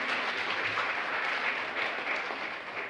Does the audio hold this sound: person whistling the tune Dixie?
no